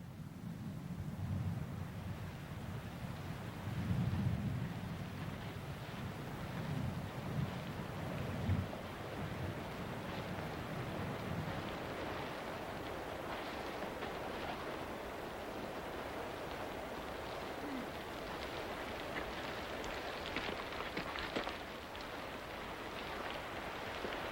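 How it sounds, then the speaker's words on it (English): Rain and gusting wind by red cliffs in wet-season tropical Australia, a steady hiss of falling rain with low rumbling gusts that ease after the first half, continuous and moderately distant with no speech. "one nice thing about cliffs is you're out of the rain when the wind's blowing that way"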